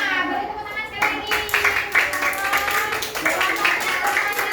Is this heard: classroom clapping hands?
yes